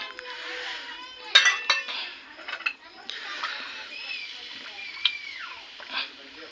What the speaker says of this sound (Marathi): आता दही आपण टाकू. टाका टाका सगळं मिक्स करून घ्या व्यवस्थित.